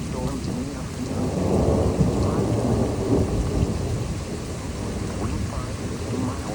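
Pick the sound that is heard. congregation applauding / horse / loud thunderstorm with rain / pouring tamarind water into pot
loud thunderstorm with rain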